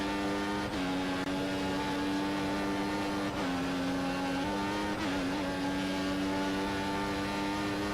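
Formula 1 car engines in the racing game F1 2014, including a Lotus and a Mercedes on a long straight at the German circuit: a loud, continuous high-pitched whine with small shifts in pitch and no voices.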